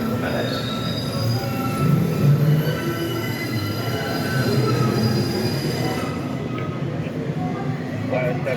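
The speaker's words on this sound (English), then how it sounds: "The next train to North Station is now arriving." A Red Line subway train arrives at an underground station, its wheels squealing loudly and steadily over several seconds amid rumbling rail noise.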